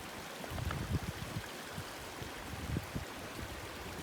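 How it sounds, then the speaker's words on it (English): Thielsen Creek, a cold, reliably flowing mountain stream, gives a steady close-up wash of rushing water with low gurgling bursts throughout, no voices over it. "This is one of the coldest streams I've ever had. Thielsen Creek, reliably flowing."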